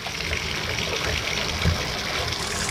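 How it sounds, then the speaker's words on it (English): Water running from the faucet into a bathtub that is filling up because of a clogged drain, a steady close gushing and splashing rush that carries on without a break and with no speech. "when I turn on the water in the bathtub, see how it's filling up?"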